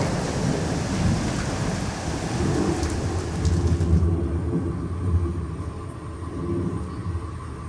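A Florida thunderstorm fills the air with steady heavy rain and low rolling thunder, a broad constant hiss over deep rumbles that swell midway, with no voices.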